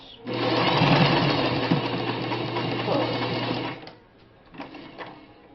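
A vintage Singer 401G sewing machine runs fast, stitching with a long stitch length through several layers of fabric. The steady whirring lasts a few seconds, then stops, followed by a couple of brief mechanical clicks.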